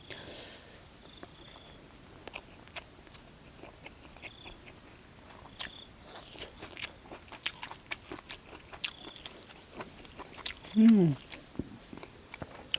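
Close, crisp crunching and biting sounds of crunchy food being chewed repeat irregularly, outdoors by rice fields at dusk, with quiet background noise and occasional faint voices.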